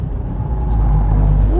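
A BMW M5 CS engine on a test drive: a steady, loud, close low rumble with a faint rising whine near the end, heard alone.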